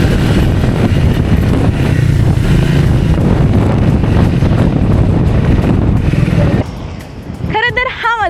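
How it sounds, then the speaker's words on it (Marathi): Strong wind buffets the microphone at a mountain pass on a monsoon ride near Malshej and Khireshwar, a loud continuous roar that drops off near the end as a voice begins speaking. "प्रचंड वारा आहे आत्ता."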